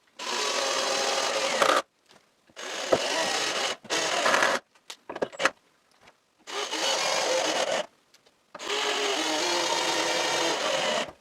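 A power driver whirs in several bursts of one to two seconds each, with short pauses between, as thin wood screws bite into plywood close by.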